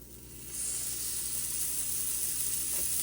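Thick-sliced bacon frying in a pan for a budget lentil soup with hot Italian sausage, a steady close hiss of sizzling fat that swells after a quieter start and holds evenly.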